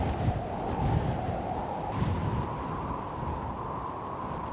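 Three wind sound effects blended together into a dense, steady roar with a low rumble and a whistling tone running through it.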